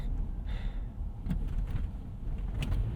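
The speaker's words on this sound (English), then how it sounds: "pretty much everything in here does rattle." Interior rattles in a 2024 Toyota Tacoma SR5 prototype pickup while driving: a few short, faint clicks and knocks ride over a low, steady road rumble inside the cab.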